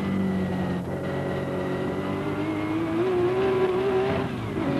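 A Martini Porsche 936 race car at Le Mans in 1977, heard onboard as it accelerates onto the long straight, with a loud, continuous engine roar whose pitch climbs steadily, then a brief dip as it shifts gear.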